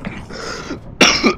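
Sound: coughing

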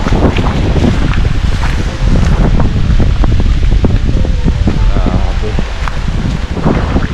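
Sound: heavy typhoon rain and wind

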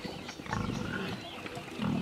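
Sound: pigs squealing

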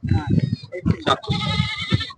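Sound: goat bleating at a livestock sale

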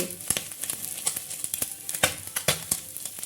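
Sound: fish frying in hot mustard oil

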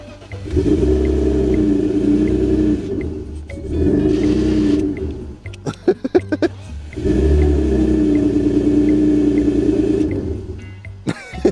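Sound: BMW E39 engine running after push-button start

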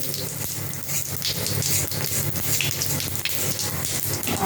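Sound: fish frying in hot oil

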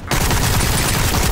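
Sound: gunshots from a round-based survival video game

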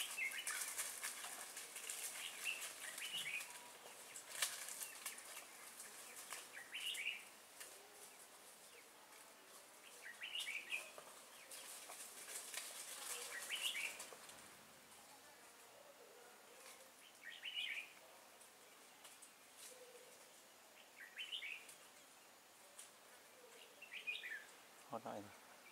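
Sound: red-whiskered bulbul singing near trap

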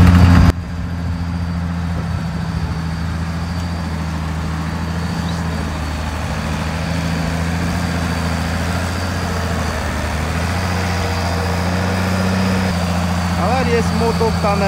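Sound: Huber Warco motor grader engine running

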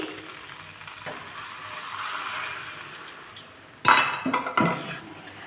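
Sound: shrimp and jackfruit curry sizzling as water is added

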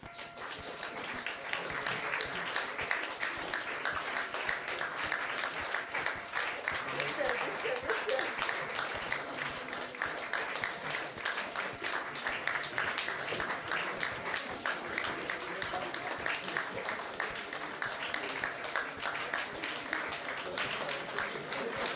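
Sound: audience applause for presenters at PechaKucha Night

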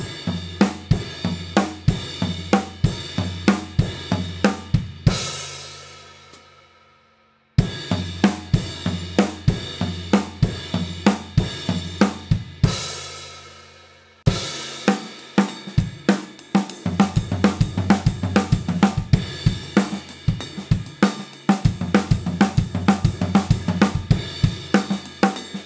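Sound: drum fill sweeping right cymbal to floor tom in 16ths

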